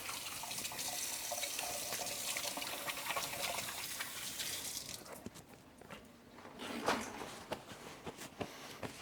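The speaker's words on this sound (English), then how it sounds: "Wash my hands." A sink tap runs steadily while hands are washed, a close, even gush that stops partway through, followed by a few faint splashes and drips.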